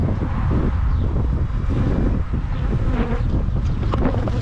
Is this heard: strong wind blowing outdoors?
yes